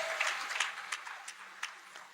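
A church congregation applauding, a fairly faint, dense patter of many hands with a few sharper claps standing out, heard from a distance in a large hall.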